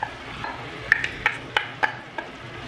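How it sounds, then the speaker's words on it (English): Fried shrimp being stirred into bottle gourd curry in a pan, giving a few soft clinks and scrapes of a utensil over a low background sizzle, close and alone without talk. "And now we will add the fried shrimp"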